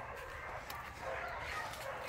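A large female dog barks in a few short, low yips and woofs, fairly faint and somewhat distant, with outdoor background noise.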